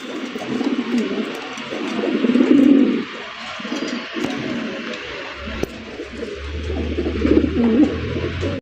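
Fancy pigeons coo over and over in soft, throaty bursts, several birds calling over one another close by, with a low rumble near the end.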